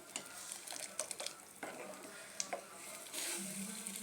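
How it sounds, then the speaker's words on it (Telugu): Buttermilk curry (majjiga pulusu) with salt simmers softly in a pot, with faint bubbling, a low sizzle and light clinks of a stirring spoon, all quiet and close. "ఇలా మంచిగా మసులుతుంటుంది"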